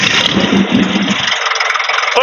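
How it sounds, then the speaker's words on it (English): An original-paint Case 1030 tractor engine idles close by, a loud, steady mid-pitched rumble that stays even throughout with no talk over it. "we gotta idle that up"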